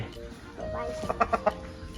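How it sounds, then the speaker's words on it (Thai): A chicken clucks in a few short, quick bursts close by, set against a steady background murmur on a Thai farm. "ไก่ตัวนี้เป็นไก่ลูกรักนะ"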